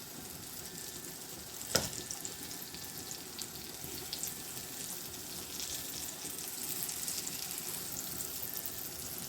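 Pre-cooked green banana kebabs fry in a pan with a faint, steady sizzle and crackle, broken once by a brief sharp tap near the start.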